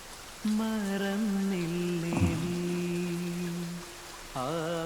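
Rain falls steadily through a film scene, a soft continuous hiss running beneath sustained tonal music that swells and fades across the clip.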